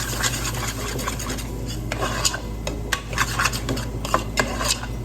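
A utensil stirs tomato mixture into chana masala in a pan, with close, repeated scraping and clinking strokes over a steady low hum and no talk.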